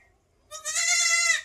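A single goat bleat from among recently kidded goats, one drawn-out, wavering cry lasting about a second after a moment of quiet, clear and close.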